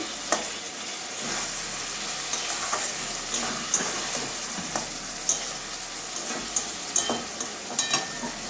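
Potol, potato and mushroom curry being fried and stirred together in a wok, a moderate steady sizzle punctuated by regular scraping and knocking of the spoon against the pan.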